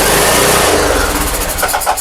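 A Craftsman T1600 lawn tractor engine, bottle-fed to get it going, catches and fires with rough, loud chugging pulses that settle toward an uneven idle.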